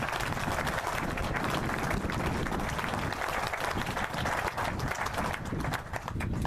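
Crowd applause at the French Jeu Provençal triples championship in Pierrefeu, a dense, continuous wash of clapping that stays loud and busy from start to end without easing off.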